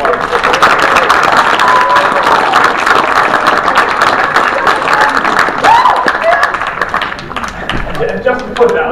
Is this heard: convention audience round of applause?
yes